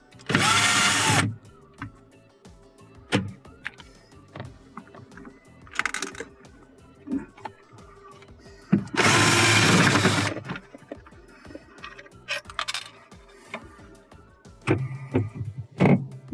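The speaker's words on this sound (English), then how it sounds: "Now we'll remove the 2 screws holding the Icemaker in place." Screws are backed out of a Hotpoint refrigerator icemaker with a number 2 Phillips screwdriver, giving scattered small clicks and scrapes, with two loud, longer bursts of broadband noise and a shorter one between them.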